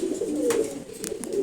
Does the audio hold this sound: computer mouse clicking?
no